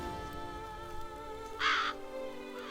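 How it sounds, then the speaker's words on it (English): One loud crow caw rings out clearly in The Witcher 3: Blood and Wine, over a quiet hum of background ambience, with no talking. "A bunch of crows, huh?"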